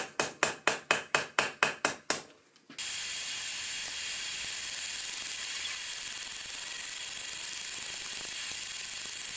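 Hot steel struck rapidly on an anvil while forging a steak flipper hook, about nine sharp evenly spaced ringing hammer blows, then a loud steady hiss of steam or quenching takes over.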